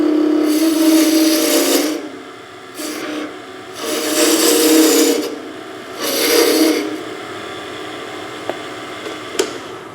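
Skew chisel cutting wood on a lathe, with several scraping, rasping passes of a couple of seconds each separated by short pauses, then quieter clicks near the end, close and loud.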